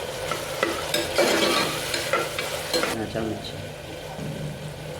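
A spoon stirs ivy gourd and potato curry in a hot pan, scraping and clattering over a sizzle that is busy for about three seconds, then settles into a quieter fry.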